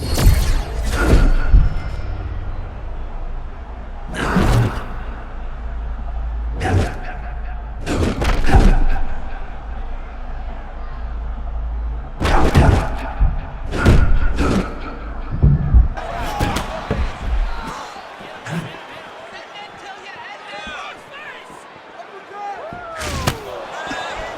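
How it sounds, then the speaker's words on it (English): Heavy blows land in an EA Sports UFC 6 bout between Justin Gaethje and Manuel Torres, a series of loud, sharp thuds and slams spaced irregularly with a few in quick pairs, over a faint crowd bed. "What a beautiful uppercut. It landed beautifully. Perfect placement on that shot."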